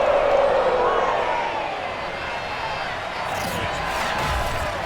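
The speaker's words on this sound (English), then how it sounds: "The enthusiasm of this Cincinnati crowd in full effect a moment ago as their Bengals took the field to the delight of this sold-out crowd." Sold-out stadium crowd in Madden NFL 22 roars steadily as the Cincinnati Bengals take the field against the Los Angeles Rams, a broad sustained wash of cheering that stays loud throughout and swells slightly near the end.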